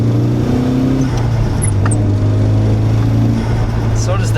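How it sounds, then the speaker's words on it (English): A Nissan 180SX 'Sileighty' four-cylinder turbo engine drones and revs, its pitch stepping up and down, loud and close throughout. "That engine makes some pretty good noises for only being a 4-cylinder."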